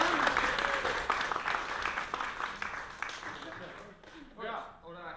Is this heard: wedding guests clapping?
yes